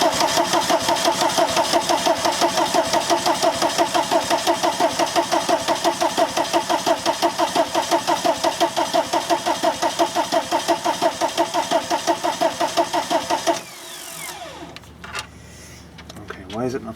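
A VW Camper's TDI diesel engine cranks over and over without catching, a rapid rhythmic starter churn held for about thirteen seconds before it stops abruptly, followed by quieter clanks and faint handling noises.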